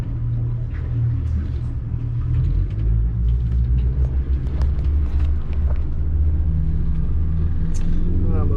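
A boat engine runs at about 4,000 RPM with Zipwake trim tabs deployed, giving a steady, loud low rumble that continues without a break, with faint water and hull noise on top.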